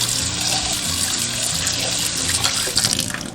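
Tap water runs and splashes over a prepared crucian carp being rinsed in a kitchen sink, a steady close stream with brief louder splashes near the end.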